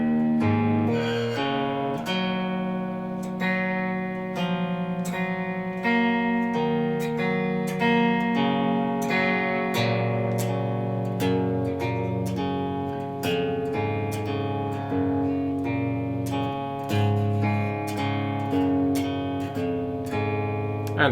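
An electric guitar plays a riff at a slow practice tempo, with clear picked notes and steady shuffling chords throughout, no voices.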